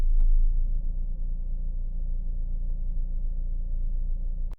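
A Fiat car engine idles steadily at close range, a low continuous rumble with even tone throughout and no voices over it.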